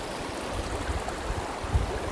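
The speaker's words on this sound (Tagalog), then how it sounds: "Ito yung ilog ng Balay-Balay" Shallow Balay-Balay river in Mauban, Quezon flowing steadily, a soft continuous wash of water with low rumbling and faint gurgles, fairly quiet and even throughout with one small bump near the end.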